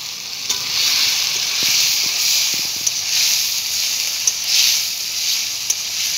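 Chicken pieces go into a hot pan of melted tomato over a rustic wood fire, and a loud, steady frying hiss swells and fades in waves, broken by a few sharp clicks from stirring.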